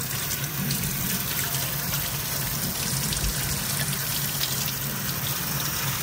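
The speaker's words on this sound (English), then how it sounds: "Okay, so now I'm gonna rinse her hair." Water from a tap runs steadily over a Rainbow High doll's hair as it is rinsed, a constant loud splashing rush with no voices.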